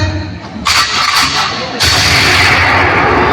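Staged gunshot effects in an amateur patriotic play, loud sharp bursts at about 0.6 s and 1.8 s over a noisy hall, followed by a sustained roar of sound.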